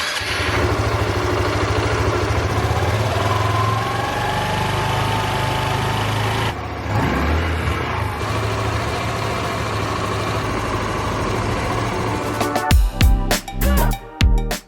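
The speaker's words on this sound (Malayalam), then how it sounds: "ഇനി നമുക്ക് ഈ വാഹനത്തിന്റെ എക്സോസ്റ്റ് നോട്ട് ഒന്ന് കേട്ടു നോക്കാം." A 2025 Hero Xoom 125 scooter idles close by with a steady low exhaust rumble, followed near the end by a few uneven throttle blips.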